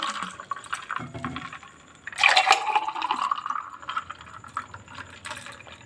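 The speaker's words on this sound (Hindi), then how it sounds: "अब हम इसको गिलासों में डाल देते हैं।" Jaggery sharbat drink with ice being poured into glasses, a close liquid splash and trickle with ice rattling, loudest partway through and then tapering into smaller pours, with no talk.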